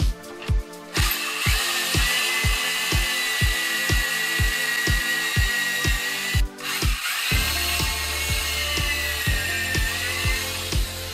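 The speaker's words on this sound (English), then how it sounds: "I will join all this together using pocket holes" A drill whirring steadily while driving screws into pocket holes to join wooden shelf parts, with a rhythmic pulsing hum, a brief stop, then continued driving, loud and close.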